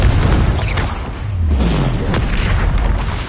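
In Hogwarts Legacy, a Confringo spell detonates in deep booming blasts, loud and dense, with rumbling after-roar and a falling whoosh trailing across the scene.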